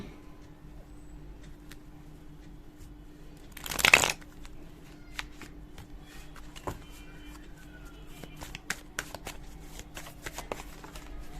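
Tarot cards are shuffled in one brief, crisp riffle burst near the start, followed by faint scattered taps and card handling over a quiet background hum.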